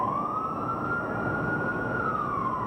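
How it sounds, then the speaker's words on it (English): A demolition warning siren before the Stowers Tower implosion gives one sustained wail that rises, holds steady and then falls, ringing out over constant outdoor noise. "3 short blasts."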